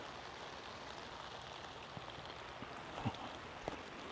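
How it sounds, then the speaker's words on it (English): Light rain patters steadily in a soft, even hiss outdoors at a construction site, with a few faint knocks and taps near the end. "Oh, it's raining a little bit, sprinkling."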